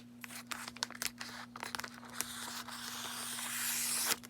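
Transfer tape peels and crackles off a permanent adhesive vinyl decal on a pool binder, a series of short tearing crinkles followed by a longer, steadier peel that swells and ends abruptly, close and quiet beneath a faint steady hum.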